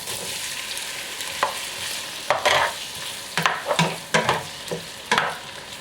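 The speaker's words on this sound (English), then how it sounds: "I've been frying them, stir frying them like 5 minutes. And now I'm going to add in the tomatoes." Onions and tomatoes stir-frying in a pan give a steady close sizzle, broken by louder crackles and spatters as the food is stirred and moved around.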